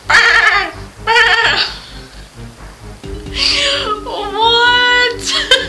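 A person imitates a sheep with a few wavering, bleat-like vocal cries, loud and close, alternating with short stretches of ordinary talk and background music.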